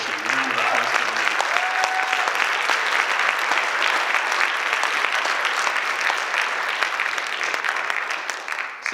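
Concert audience applauding student band members Riley on alto and Gretchen on percussion at a high school spring band concert; dense, steady clapping from a large crowd fills the whole stretch at close range without letup.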